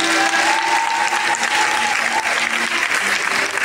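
A church congregation applauds and acclaims God, loud continuous clapping with raised voices and cheers mixed in and a sustained musical tone underneath.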